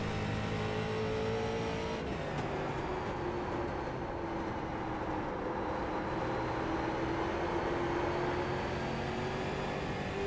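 Street stock race cars at Stafford in the iRacing sim drone steadily throughout, several engines side by side holding a constant, even pitch with no pauses.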